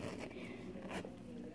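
A zipper that forms the mouth of a plush pig toy being pulled open, giving a close, raspy run of ticking zip sound that carries on steadily and partly overlaps with voices speaking nearby.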